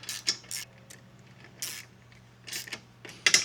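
Hand ratchet tightening roof rack bolts on a Jeep Gladiator, heard as a few short, sharp clicking bursts spaced irregularly, fairly close, over a low steady hum.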